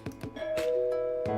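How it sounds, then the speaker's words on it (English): A doorbell chimes in the dragon visual novel game Angels with Scaly Wings, a sustained ringing tone with soft percussive ding accents, loud and alone. "My musings were interrupted when the doorbell rang."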